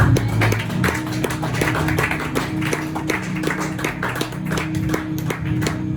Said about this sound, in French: Est-ce que tu peux acclamer pour les deux textes?